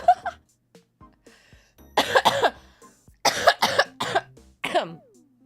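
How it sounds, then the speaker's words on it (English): Several harsh coughing bursts in clusters, close and fairly loud, with a short gasp or two in the pauses between them. "I wish my cough would stop"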